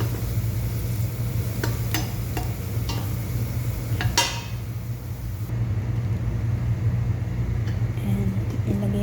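Yellow rice for four being browned and stirred in a pot, a steady low sizzle and scrape with a constant hum underneath and a few sharp clinks of a utensil against the pot.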